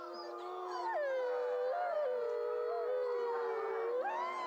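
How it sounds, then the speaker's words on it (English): A gray wolf gives a long, sustained howl that rises, wavers and bends in pitch over several seconds. It is fairly faint and heard alone. "the direct ancestor of Canis familiaris, better known as the modern dog, is Canis lupus"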